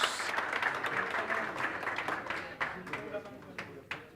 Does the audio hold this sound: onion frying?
no